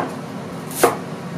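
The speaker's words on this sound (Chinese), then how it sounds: "把韭菜切成韭菜段，韭黄和韭菜一样也切成段" A knife chopping chives and yellow chives into short sections on a board, with one crisp chop standing out against faint background noise.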